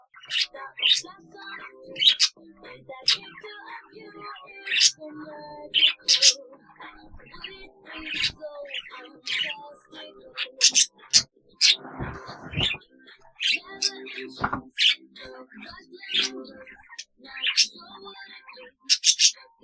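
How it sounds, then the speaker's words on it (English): Repeated short, high chirps from a small pet bird perched on a wooden connector set, scattered irregularly across the clip, fairly close, with some soft rustling and faint voices in between. "Kermit likes chirping on top of his wooden connector set."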